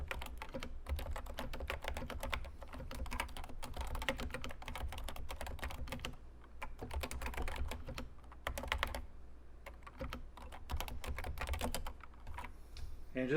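Steady, brisk typing on a Realforce Topre 104UG Hi-Pro keyboard, its rubber-dome keys giving muted, poppy thocks in quick bursts with short pauses, close and alone.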